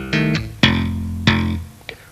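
Slapped and tapped electric bass, with hammer-ons, a pull-off and two thumb slaps on F: a few sharp percussive plucks with ringing low notes, close and alone.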